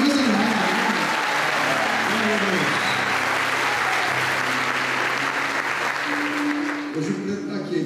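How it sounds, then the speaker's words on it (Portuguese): A church congregation claps enthusiastically, producing a dense, loud, continuous applause that thins slightly near the end, with voices and some tonal sounds mixed underneath. "Você pode melhorar o aplauso?"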